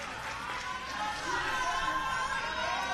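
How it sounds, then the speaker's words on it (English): A crowd cheers at the junior recurve final of an indoor archery world championship, with a broad, sustained roar building in the hall beneath steady commentary. "You can hear the cheers."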